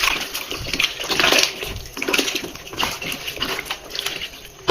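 Raw chicken being stirred by hand in a bowl of water with white vinegar and salt, giving close, continuous sloshing and splashing with soft wet swirls throughout.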